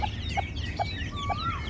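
A brooding hen clucks in four short, evenly spaced calls, close and clear, with a thin chirp of a chick or small bird and a low farmyard hum behind.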